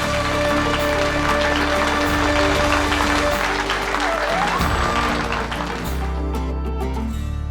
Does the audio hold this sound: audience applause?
yes